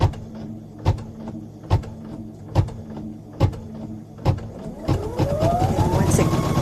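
A sewing machine stitches over tape while making coasters, thumping in a steady rhythm of evenly spaced knocks, then speeding into a continuous whirring run at the end.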